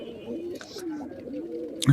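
Large pigeons cooing inside a loft in Khulna, a low, steady rolling coo running through the whole stretch, close and moderately loud, with a brief sharper flutter or knock at the very end.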